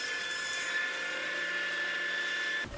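A jointer planes the edge of a sawhorse board, taking a shallow pass of just under an eighth of an inch, a loud steady high-pitched whine and cutting roar up close that cuts off abruptly at the end.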